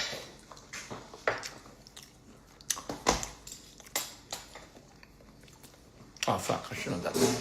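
Someone chews and eats crab close to the mic, soft wet squishing bites scattered through the clip, with faint speech now and then.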